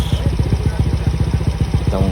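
A Yamaha Mio i 125 scooter with its engine upgraded to a 150cc bore kit idles close by, a quiet, steady, even-pulsing putter throughout.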